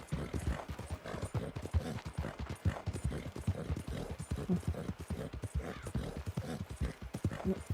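Horse hooves clip-clop steadily and rapidly in Red Dead Redemption 2 as a not-very-fast horse is ridden, an unbroken rhythmic trot running the whole time, close and fairly loud.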